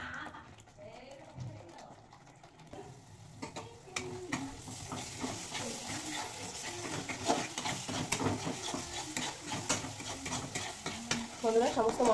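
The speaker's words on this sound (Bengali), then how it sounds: "সমস্ত মশলা ভালোভাবে কষিয়ে নিয়েছি" Ground spices frying and being stirred in a pan, with a steady sizzle and scraping stir strokes that grow busier toward the end, for prawn malai curry (galda chingri).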